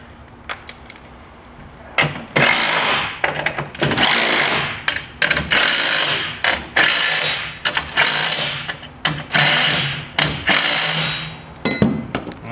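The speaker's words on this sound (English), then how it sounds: "we'll lock it down with these two little serrated flange nuts and our half inch socket" A half-inch socket ratchet tightening two small serrated flange nuts on a TruckBoss truck deck leg, loud repeated bursts of rapid clicking ratcheting separated by short pauses, close up.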